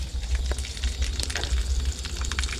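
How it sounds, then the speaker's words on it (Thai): Plastic-derived oil bubbling and popping steadily in a pot, a dense crackle of small bursts close by with no voices. "มีเสียงน้ำเดือดแล้วนะครับ"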